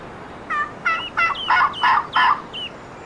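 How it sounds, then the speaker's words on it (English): A wild turkey gobbles in a hunting video game: a rapid series of about seven rattling gobble notes, clear and moderately loud over a quiet outdoor background. "Oh, I just had a bird gobble, y'all."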